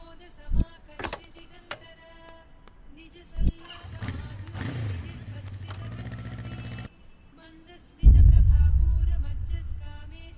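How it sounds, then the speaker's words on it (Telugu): A motorcycle engine starting, with a few sharp clicks and thumps, a rising mechanical whir, then a loud low rumble that catches and holds near the end. Muffled voices may be present. "సరే, బైక్ తీసుకొస్తాను."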